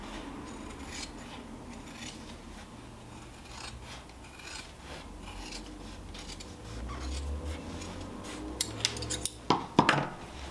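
Scissors snipping fabric seam allowance during sewing, a steady series of soft rasping cuts that grow sharper and louder with clicking blade sounds near the end.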